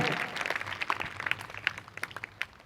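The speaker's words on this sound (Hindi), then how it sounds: "एक बार जोरदार तालियां ऐसे शिक्षाविदों के लिए।" Audience applause at a Hindi-language motivational talk: scattered, crisp handclaps that start fuller and thin out into sparse individual claps as they fade.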